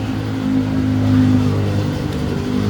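A Barako 2 motorcycle engine running close up, a loud steady idle that rises slightly into a revving swell and then settles, with no talking over it.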